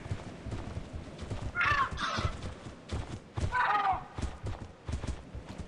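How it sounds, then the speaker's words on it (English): Birds in the video game Lethal Company: two bursts of harsh, cawing bird calls rise above a steady rumbling, crackly game ambience, each call cluster lasting about half a second, moderately loud. "Just, it's birds."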